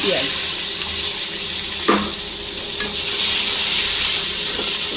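Whole garam masala with bay leaf and a dried chilli sizzling in hot oil while being stirred, a steady close hiss with occasional scraping clinks of the spoon in the pan.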